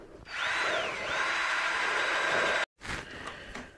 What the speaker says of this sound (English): just drill all the way through it